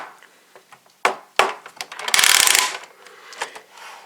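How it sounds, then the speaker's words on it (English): Ratcheting clicks from a Kamen Rider Ex-Aid DX Gashat case, a burst of loud close mechanical rattling after a few sharp plastic clacks, then scattered softer clicks. "Though it's also got a much louder ratchet."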